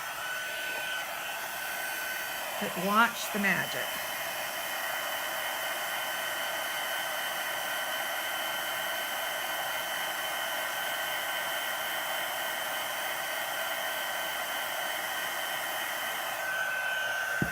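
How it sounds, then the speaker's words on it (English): Heat gun blowing on embossing powder on a notebook cover makes a steady, loud, hair-dryer-like whoosh for the whole stretch, with a brief voice early on. "So now I'm going to turn on my heat gun."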